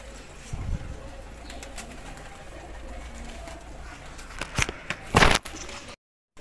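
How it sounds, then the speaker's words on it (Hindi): Soft cooing of a female pigeon close by over a faint background, followed by rustling and a few sharp crackling bursts near the end. "बड़ी अच्छी शानदार कबूतरी है"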